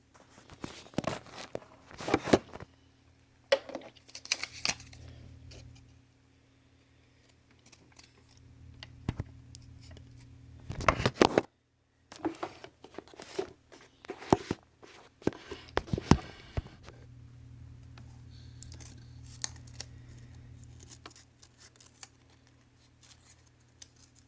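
Scissors cut paper in scattered short bursts of crisp snips and rustles, some close together and some after quiet gaps, fairly faint, with a few clicks and handling noises.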